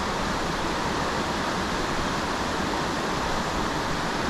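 A forest creek along a hiking trail rushes with a steady, full hiss of flowing water, continuous and close with no pauses or other sounds.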